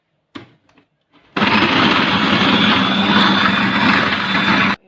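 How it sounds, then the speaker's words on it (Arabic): Kitchen blender whirring lemon juice from four squeezed lemons with vinegar for a daqqus sauce: a few faint clicks, then the motor kicks in with a loud, steady roar that runs about three and a half seconds before cutting off abruptly. "هبتدي بقى ان انا اضربهم في الخلاط"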